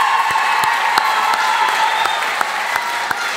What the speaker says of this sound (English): So I think we give her a big round of applause for that.